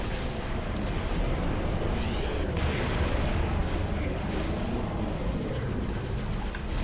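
Dense gunfire and explosions rumble through Halo: Reach, a loud continuous barrage with rapid overlapping shots that fills the whole stretch without pause.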